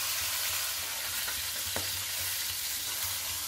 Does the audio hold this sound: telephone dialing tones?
no